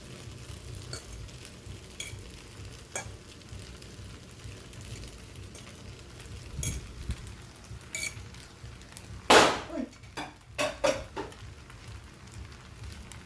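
Pancit noodles being sautéed in a pan, with a soft steady sizzle and stirring scrapes at low level, a few sharper clatters near the end; no talking.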